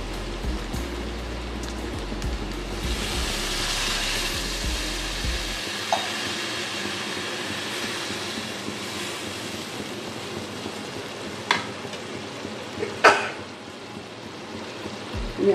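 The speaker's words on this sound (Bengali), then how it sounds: "মশলা আমার কষানো হয়ে গেছে। আমি এবার জল দিয়ে দিচ্ছি।" Water splashed into fried spice paste for a Bengali fish curry with potato and taro, starting as a loud rushing sizzle that settles after several seconds into a softer, steady simmer broken by a couple of clatters.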